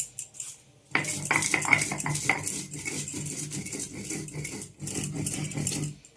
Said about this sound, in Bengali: শিলনোড়ায় বাটনাটা করব